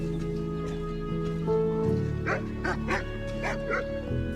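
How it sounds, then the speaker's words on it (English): A husky yips and barks several times in the video game Skyrim, over a steady musical background with humming tones, the barks moderately loud and close. "He's barking right on cue."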